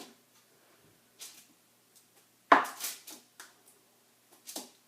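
Knife slicing through Daphne's Divine wax loaves, a series of soft separate scraping cuts and dull taps on the board, one sharper louder stroke in the middle, close and otherwise quiet.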